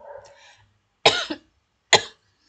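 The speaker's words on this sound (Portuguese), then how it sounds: "sempre fico alérgica assim, sempre fico com esse pigarrinho" A woman with allergies gives a soft throat clearing, then two short, sharp coughs about a second apart, close and clear with no talking.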